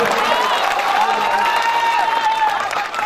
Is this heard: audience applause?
yes